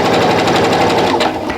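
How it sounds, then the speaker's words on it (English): A sewing machine runs fast and steady, stitching a quarter-inch seam on a half-square-triangle quilt block, its loud, even mechanical chatter going with no break. "make sure I sew that 1/4 inch seam"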